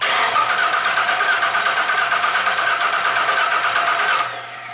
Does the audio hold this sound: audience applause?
no